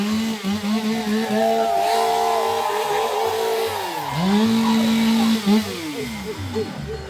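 Several chainsaw engines idle and rev together as they warm up at a lumberjack show, pitches rising and dipping as they run up, loud and continuous.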